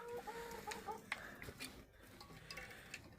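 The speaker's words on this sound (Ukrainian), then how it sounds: "Це наші півники." Roosters clucking softly with short, repeated calls, a bit distant, alongside faint clicks and background rustle.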